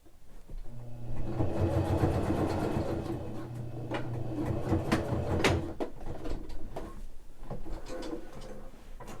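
A sewing machine stitches a trouser seam with a steady, motorized hum and low mechanical drone that runs for several seconds, then stops and gives way to quieter handling clatter.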